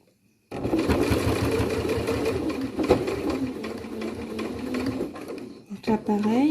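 A sewing machine topstitches a shirt cuff, its motor running in a close, steady whir of rapid needle strokes for the whole stretch, with a brief voice just at the end.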